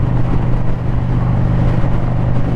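A shaft-drive Japanese cruiser motorcycle engine drones steadily while riding, a loud, close, low rumble with constant wind noise and no pauses.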